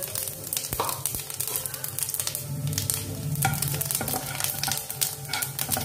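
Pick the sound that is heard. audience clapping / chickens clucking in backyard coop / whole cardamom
whole cardamom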